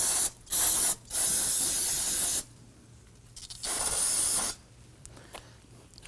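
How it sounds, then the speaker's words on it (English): Bursts of aerosol solvent sprayed onto the ends of a rear brake hose on a 2015-2024 Nissan Murano, three long hissing blasts separated by short pauses, loud and close with no talk. "Let's take some spray solvent. I want to clean both ends here."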